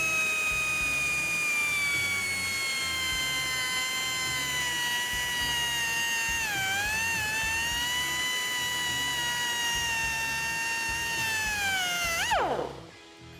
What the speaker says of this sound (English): we're going to make a cut right back here on the weld so that we can flip this heat shield up